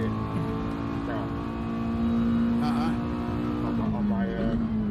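Mazda Miata engine racing in Gran Turismo 7, a sustained buzzing drone held near steady revs, shifting pitch slightly around gear changes, with other cars faintly present in a continuous mid-loud racing scene.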